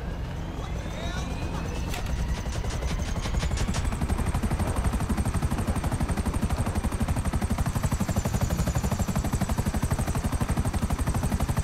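Helicopter in a heist video game, a loud rapid rotor chop thudding steadily throughout, with sharp bursts like gunfire at the start and a whining tone over the top.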